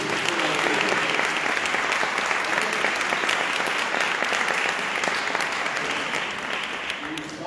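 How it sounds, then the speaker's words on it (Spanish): A church congregation applauds to welcome a priest at a parish gathering, with sustained, dense clapping from a large crowd that stays loud throughout and eases slightly at the end. "Vamos a darle la bienvenida con un aplauso."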